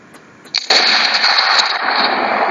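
An M24 sniper rifle fires in Garry's Mod with a loud, close crack that opens into a long, bright, rushing tail lasting a couple of seconds, with no voices over it.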